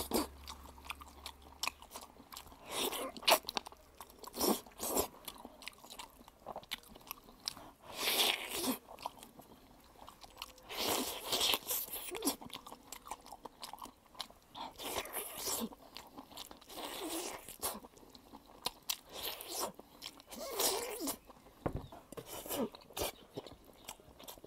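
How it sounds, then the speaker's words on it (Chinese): Someone eats braised spicy pig trotters with wide potato noodles, gnawing them by hand: repeated close, moist bites and crunchy chewing with occasional scraping, soft and irregular over about twenty-five seconds without speech. "现在尝下我的猪蹄。"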